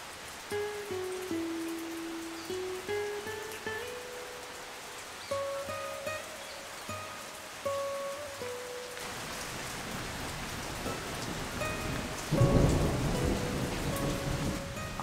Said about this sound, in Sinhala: දළදා පෙරහැර තියෙන කාලේට සාමාන්‍යයෙන් මේ වගේ වැස්සක් බලා ගන්න පුළුවන්